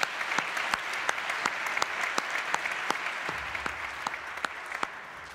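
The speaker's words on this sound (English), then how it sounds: "I want you all to give yourselves a round of applause as well." Audience applause at an honors concert, steady dense clapping held at moderate level throughout, thinning slightly toward the end.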